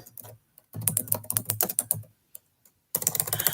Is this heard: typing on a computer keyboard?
yes